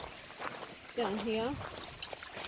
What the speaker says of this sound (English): You can hear it running down the channel.